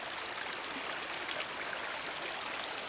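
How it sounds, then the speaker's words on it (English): Water flowing steadily down a small stream on the Starr Trail near the Rhode Island line in February, a soft constant burble and trickle with no talk. "this is the water flowing down the Star Trail"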